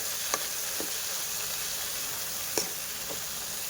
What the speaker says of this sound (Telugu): ఇప్పుడు ఒక కడాయిలో ఆయిల్ పోసుకొని కొత్తిమీరని ఫ్రై చేసుకోండి మంచిగా